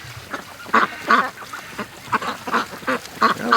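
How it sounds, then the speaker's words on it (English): Free-range ducks quack in repeated bursts, several calls in a loose rhythm at moderate distance, heading out toward a lake in the morning. "Oh, that's a gorgeous duck."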